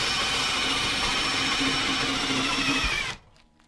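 A power drill driving a box-truck bed lift whirs loudly and steadily for about three seconds, then cuts off abruptly, leaving a faint mechanical tail.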